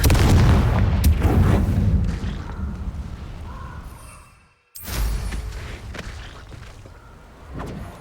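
A Confringo blasting spell explodes in the Hogwarts Legacy game, a loud booming blast that rumbles and decays, cuts out briefly, then a second burst swells and fades with a lingering roar.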